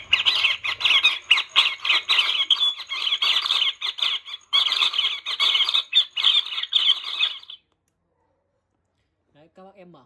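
Rapid, chattering bird calls played loud through an AT108 bird-trap speaker, a dense repeating squawking pattern lasting about seven seconds before cutting off, then brief faint sounds.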